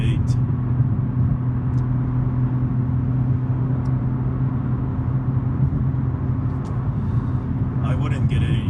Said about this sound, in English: Nice V8.